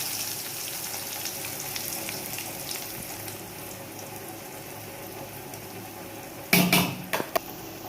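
Onions and garlic fry in oil with cumin for keerai kootu, a soft steady sizzle close by, followed near the end by a few sharp clatters.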